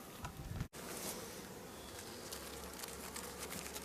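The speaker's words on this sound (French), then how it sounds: "Voilà le sanctuaire des bourdonneuses." Bees buzzing from a drone-laying colony shaken onto the ground near large trees, a steady dense hum close by after a brief thump and dropout.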